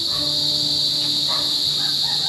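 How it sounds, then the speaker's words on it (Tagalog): Crickets chirping at dusk in a rural Kalinga countryside setting, a loud continuous high trill with a faint lower insect drone underneath, no voices. "ang maririnig po natin ay mga huni ng kuliglig"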